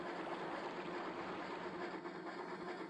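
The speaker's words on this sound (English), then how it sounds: "I like that they have running water noise." Rapids run in a river in the Trainz Simulator railway game, with a steady, rushing wash of water that stays even and close, and no speech.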